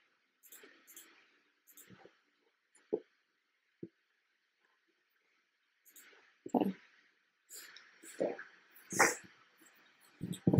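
Cartoonish dog sounds from the Pet Ranch Simulator video game come in short yips and barks. Scattered bursts start sparse and quiet, then grow into a busier cluster of barks near the end.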